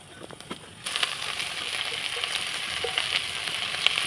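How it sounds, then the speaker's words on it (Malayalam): Mustard seeds, onion, small bird's-eye chillies and greens fry in mustard oil, a quiet start giving way to a sudden steady sizzle with crisp pops and crackles scattered throughout, close and moderately loud. "കടുകെണ്ണയാണെങ്കിലും കുറച്ച് കടുകിട്ട് പൊട്ടിച്ചു"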